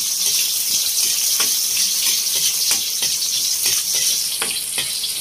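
Shrimp paste (bagoong alamang) sautéing in a pan gives a steady, loud hiss and crackle, with scattered sharper pops and stirring scrapes over about five seconds.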